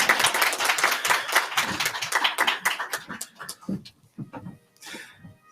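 Applause at a graduate hooding ceremony, starting as a brisk burst of clapping that thins into scattered, uneven claps and fades near the end.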